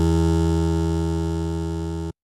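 A plucked resonator tone from the Outersect Modeler synth holds steady and loud with a strong low hum-like body for about two seconds, then cuts off abruptly to silence.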